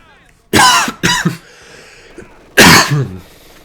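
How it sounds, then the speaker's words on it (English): A person lets out deep coughs from the lungs: two quick harsh bursts close to the mic, a short pause, then a third heavy cough, loud and near. "Nice deep throaty cough right there. Not throaty, it's coming from the lungs. A lungy cough."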